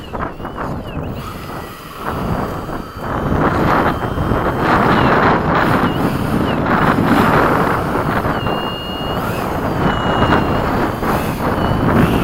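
Strong wind buffets the microphone in loud, uneven gusts at an outdoor flying field while a Hobby King Avios Mig-17 RC jet flies at sunset; the rushing roar swells and eases throughout.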